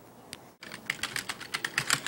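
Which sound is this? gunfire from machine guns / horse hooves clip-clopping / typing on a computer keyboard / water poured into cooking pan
typing on a computer keyboard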